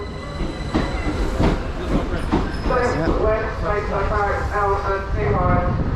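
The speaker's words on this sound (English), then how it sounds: "So here we have 375 307. This is our 1404 Southeastern service, which goes to Strood" Southeastern class 375 electric unit 375307 pulling into a Kent station platform on a Strood service, wheel rumble and clatter joined by rising squealing tones, with a voice faintly audible over the mechanical noise.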